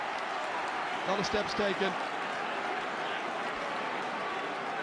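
Stadium crowd noise at a Kerry v Cork Gaelic football match, a steady roar of spectators that swells briefly, with a commentator talking over it.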